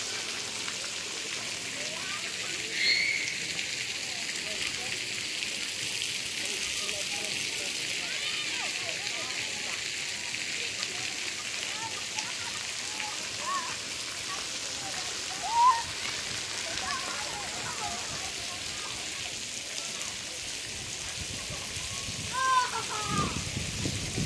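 Water sprays steadily at a children's splash pad in Canada, a continuous rain-like hiss and patter that runs for the whole stretch, with faint voices and a few brief splashes now and then.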